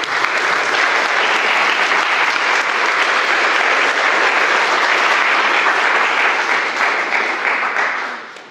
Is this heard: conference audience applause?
yes